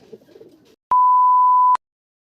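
Pigeons at a loft give a short burst of soft, low cooing, followed by a loud, steady electronic beep lasting almost a second.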